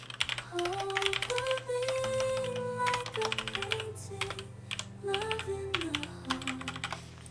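Fingers type a message on a computer keyboard in quick, irregular bursts of close clicks with brief pauses, while melodic background music plays underneath.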